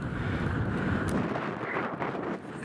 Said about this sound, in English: it's dead windy, sound would be weird